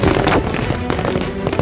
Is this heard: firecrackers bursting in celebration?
yes